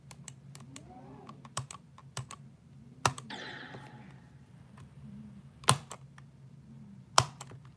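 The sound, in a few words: computer mouse clicking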